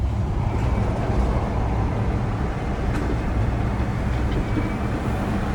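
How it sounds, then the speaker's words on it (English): Inside the cabin of a moving BYD Shark electric pickup, a steady low rumble of road and wind noise fills the space continuously, with no talking. "It's not only there is a noise on the road, but it's also the wind outside."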